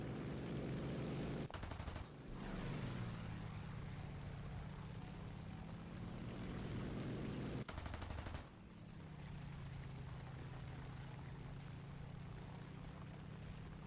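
Aircraft machine guns fire two short bursts in the War Thunder combat flight game, loud rapid rattles over a steady jet engine drone.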